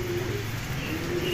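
A pigeon coos with low, steady, repeated calls close by against a constant background hum, the cooing pulsing at a slow, even rhythm.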